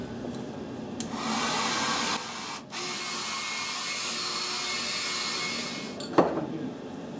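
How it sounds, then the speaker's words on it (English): A hairdryer blows steadily up close to speed drying of primer on an MDF wargaming building, a constant loud whoosh with a brief dip midway and a small knock near the end. "use a hairdryer to help speed things up a little bit"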